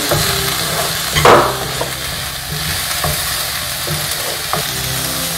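Onions, ginger and garlic frying with salt in a pan, a steady close sizzle with occasional stirring scrapes and clinks, no talking.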